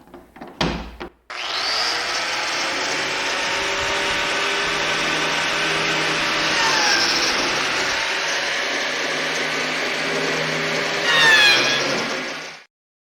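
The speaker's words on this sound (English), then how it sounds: "it's just a matter of cutting 2 slots in each of the surfaces" A biscuit joiner cuts slots into cherry wood rails: a loud, steady power-tool whine runs unbroken for about eleven seconds after a brief clatter, then stops abruptly, with no voices.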